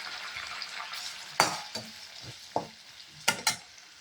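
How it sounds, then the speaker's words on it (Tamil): Onion and green chili going into melted butter in a pan, a soft, quiet sizzle with a few sharp stirring scrapes and utensil clacks scattered across the moment. "எண்ணெய் உருகிருச்சு. இதெல்லாம் போட்டுடலாங்க. இப்போ வெங்காயம் பச்சைமிளகா"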